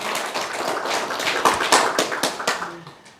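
Congregation applause in a church service, heard as a short burst of scattered, uneven clapping that swells briefly and then thins out and fades within a few seconds.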